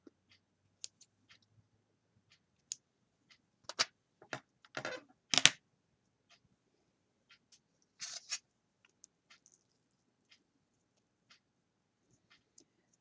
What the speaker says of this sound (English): take a pair of scissors